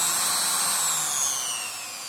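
A homemade drill press runs on a metal rod, a steady high whine that slowly drops in pitch as the load comes on, fairly loud and close, with no talk.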